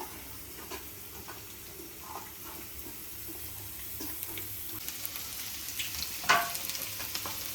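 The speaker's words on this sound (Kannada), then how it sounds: "ಸ್ವಲ್ಪ ತೆಂಗಿನ ಎಣ್ಣೆ ಹಾಕಿದ್ದಾರೆ ಅದಕ್ಕೆ ಸ್ವಲ್ಪ ಬೆಳ್ಳುಳ್ಳಿ ಹಾಕಿ ಈ ಥರ ಕಾಯಿಸ್ಕೋಬೇಕು" Garlic frying in coconut oil for a Mangalore-style country chicken sukka, a soft steady sizzle with faint scrapes and a brief sharper crackle near the end, no talking.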